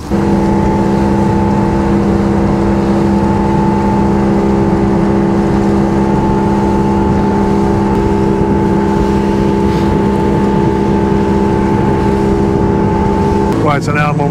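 A motorboat engine drones steadily and loudly while the boat runs on open water, a constant close hum with a brief change near the end, heard alone without talk.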